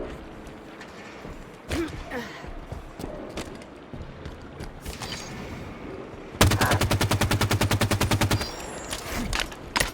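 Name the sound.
gunfire in the video game Halo 5: Guardians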